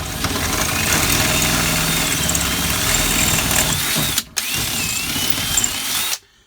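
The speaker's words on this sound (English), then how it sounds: "you're going to need a drill bit the same size as your rivet. In this case, it's a 1/4 inch drill bit." A power drill with a 1/4 inch bit bores out a rivet hole during a column-to-floor shift conversion on a 1960s-70s car, whining loud and steady for about four seconds, a brief stop, then more drilling before cutting off.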